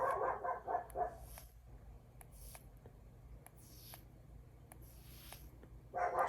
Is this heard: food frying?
no